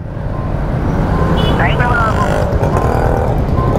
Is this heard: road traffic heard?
yes